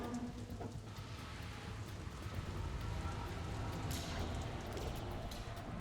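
Steady rain in the video game Metal Gear Solid 2 patters continuously, a dense even hiss with low rumbling underneath, like a downpour heard from close by.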